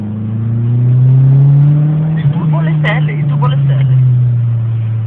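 Subaru car with a turbocharged engine revs hard under a steady low drone, rising and falling, with short crackling pops from the exhaust near the middle; nearby voices talk over it.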